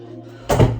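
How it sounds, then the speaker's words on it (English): A door swings shut at home, a single dull thud landing about halfway through after a low, steady indoor hum, fairly close and fairly loud. "Close the door."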